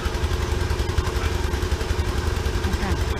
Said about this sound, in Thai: ใส่เครื่องรถไถสองเครื่องสูบน้ำออก